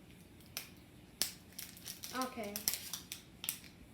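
Plastic Lego egg being cut open, with a few sharp snips and crackling plastic scrapes close by, and a short spoken word in between.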